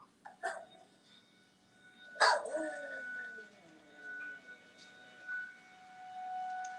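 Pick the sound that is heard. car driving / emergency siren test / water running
emergency siren test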